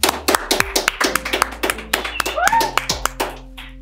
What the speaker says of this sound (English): Please give a big Tiger round of applause for Pedro Mendiola Ochoa.